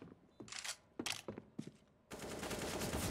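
Bursts of automatic rifle fire in Counter-Strike: Global Offensive, a few sharp volleys crackling in quick succession and then merging into a sustained burst, fairly close and faint overall.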